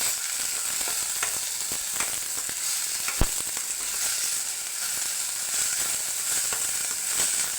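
Onion and tomatoes fry in a pan with a continuous close sizzle, faint scraping stirs and one sharp pop partway through.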